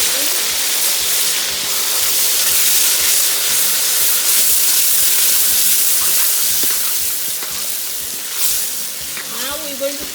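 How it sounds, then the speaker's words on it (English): Gambian fish stew ingredients, onions, tomato, tamarind and meat, frying in a pot, a steady loud sizzle and hiss with occasional stirring clatter. "Now we're going to fry this until the onions are well done"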